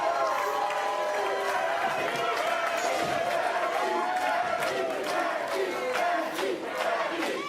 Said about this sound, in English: the crowd comes back to life